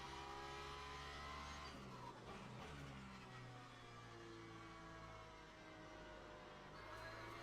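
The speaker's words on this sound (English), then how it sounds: "There goes the hypercar." Engine roar of a hypercar in a racing video game, with sustained high revving and tire noise as the car passes by on the 4-hour Spa circuit, loud and continuous throughout.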